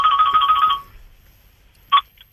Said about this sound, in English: That's not Reedy, that's my other phone.